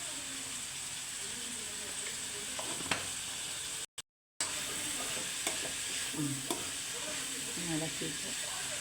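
Chicken with salt and turmeric, Kerala style, being stirred in a pan, a steady hissing sizzle with occasional spatula scrapes and knocks, faint and close, briefly cutting out partway.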